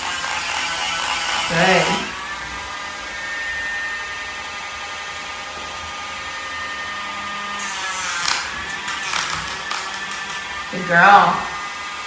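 Nail dremel grinding a Samoyed's nails, a steady high-pitched electric whir running under the clip, with someone speaking softly and praising the dog at intervals.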